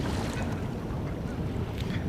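Steady wind blowing across the microphone, a constant low rumble with some soft higher hiss, no voices.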